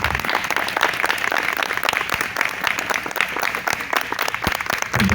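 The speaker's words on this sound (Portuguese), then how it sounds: "eles com a salva de palmas" Wedding guests give a round of applause to the bride and groom as they stand, dense loud clapping that is close and sustained, with scattered louder individual claps and a faint murmur of voices under it.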